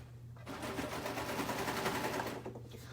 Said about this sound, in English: they can feed under my serger so they will match up.